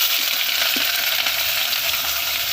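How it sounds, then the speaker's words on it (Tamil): Shallots and green chillies fry in hot oil for a mutton curry, giving a steady, dense sizzle that fills the whole stretch, with a faint stir or clink near the start and no talking. "சின்ன வெங்காயமும் பச்சை மிளகாய் எடுத்து வச்சுருக்கேன் சேர்த்துடலாம்"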